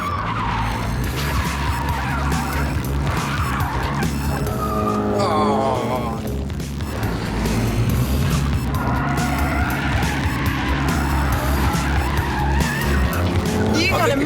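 A Volkswagen Golf GTI is driven hard on a track, tyres squealing and skidding through corners over a loud, continuous engine drone heard from inside the car, with people talking throughout.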